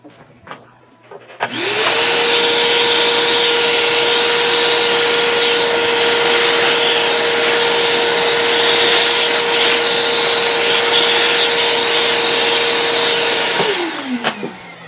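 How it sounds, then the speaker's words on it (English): A vacuum cleaner blows and sucks dust out of the open workings of a serger sewing machine. It starts, runs loud and steady with a constant whine for about twelve seconds, then spins down and stops. "I'm going to go ahead and do some of that before I turn on my vacuum."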